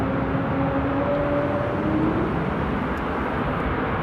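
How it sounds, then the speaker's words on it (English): A Turkish Airlines airliner arrives on runway 27 at Amsterdam airport in the aftermath of a storm, heard as a steady, distant broadband jet roar that holds level throughout. "And Ruben is saying that the Turkish is coming to runway 27, which is good."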